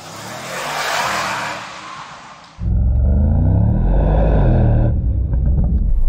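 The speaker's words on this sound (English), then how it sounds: "you'll hear the V8 engine with a little mix of AMG electrification performance sound" A deep Mercedes-AMG GT63 V8 engine roar surges in suddenly and holds loud and rumbling, echoing as if in an enclosed space, after a softer whooshing rush.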